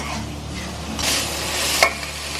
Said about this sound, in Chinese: 最后这几下就是用大火翻炒，这样味道会出来